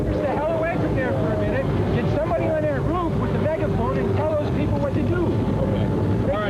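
Helicopters hover over the burning MGM Grand hotel in Las Vegas in 1980, a steady loud rotor roar with wind buffeting. Shouting and voices run through it, and the whole scene sounds chaotic and close.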